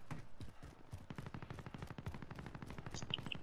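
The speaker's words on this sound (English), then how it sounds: "Sounds like a pistol, I think." Rapid, evenly spaced pistol shots in Call of Duty: Modern Warfare, a dense run of sharp cracks at moderate distance with no talk.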